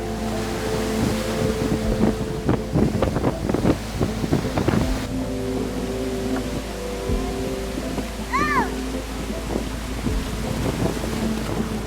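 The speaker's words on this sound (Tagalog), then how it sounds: "Sa naglalakasang alon at nangangalit na hanging bitbit ng bagyong Karding." Strong typhoon wind buffets the microphone while heavy waves surge and crash nearby, with a boat motor droning underneath and brief creaks and knocks throughout.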